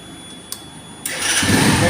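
A used Royal Plus motorcycle is self-started, a couple of clicks followed by the starter cranking and the engine catching into a rising, close, loud running sound within about two seconds.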